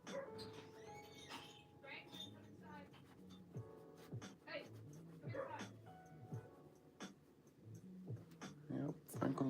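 Franklin the dog yips, whimpers and barks in short bursts off to the side in a live-streaming art studio, mixed under steady talk and scattered clicks.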